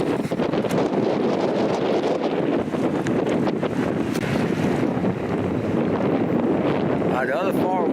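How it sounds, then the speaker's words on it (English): Strong wind buffets the microphone at a boat ramp in loud, continuous gusts, with a rushing roar and a brief rustle near the end. "But it's too windy."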